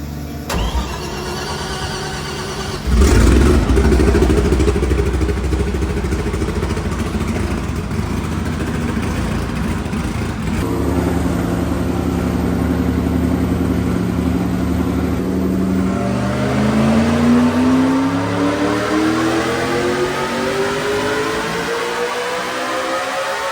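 An engine at Bonneville Speed Week catches and fires loudly, then runs at a steady high rev before climbing through a long rising pitch toward the end, close and continuous with no talking.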